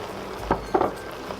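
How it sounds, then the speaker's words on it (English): Corn chowder with tomatoes, peppers, jalapenos and corn is stirred in a pot, producing two or three close, soft scraping clunks of a utensil against the pot over a low background hum. "Gonna give that a good mix."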